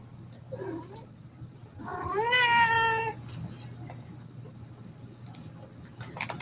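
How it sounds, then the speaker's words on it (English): A cat gives one drawn-out, loud meow with a rising then falling pitch in the middle, surrounded by quieter rustling and a steady low hum in an indoor room. "We have with us a four-legged goddess kitty cat."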